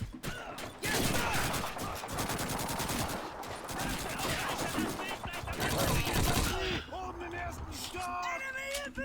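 Heavy gunfire in the Call of Duty 2 video game, with dense rapid machine-gun bursts and rifle shots firing almost continuously, loud and close, under shouted soldier voices, then easing into scattered shots.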